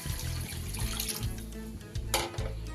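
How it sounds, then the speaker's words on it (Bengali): Water poured from a vessel into a pan of papaya kofta curry, a continuous close splashing gush lasting a few seconds, with no talking. "এবার আমি জল দিয়ে দেব।"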